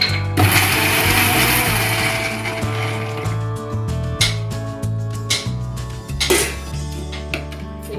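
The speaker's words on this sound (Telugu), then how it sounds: "మిక్సీ తిప్పుకుంటూ ఉండాలి." A kitchen mixer grinder chops onions for onion chilli chutney in short whirring bursts with rattling and clattering between pulses, loud and close, with no voices.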